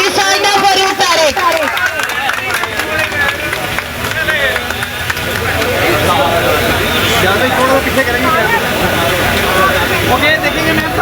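A crowd applauds a chief guest at an Urdu cultural event honoring a film star, dense clapping and cheering sustained loudly throughout under general hubbub.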